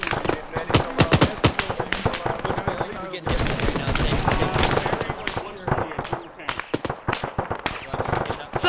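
Rapid automatic gunfire from the military shooter game Arma 3, loud dense bursts and single shots crackling close, nearly continuous with brief pauses, mixed with voices talking over team chat.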